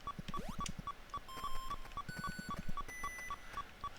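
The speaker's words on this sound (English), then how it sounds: "Gotta love the incessant beeping." The low-energy warning in the NES game Metroid beeps incessantly in a steady, evenly spaced pulse, mixed with chirpy game effects and soft thumping music underneath.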